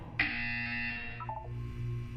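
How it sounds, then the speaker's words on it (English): Harsh electronic buzzer in the Portal 2 video game, one loud sustained blast lasting about a second, then a short stepped descending tone as it cuts off, alone with no talk. "You will hear a buzzer."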